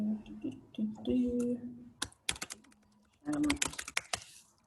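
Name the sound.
computer mouse clicking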